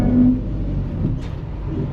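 A Ford F-150 engine power braked in gear, a low, steady, close engine rumble straining under load against the brakes, with a slight rise and no speech.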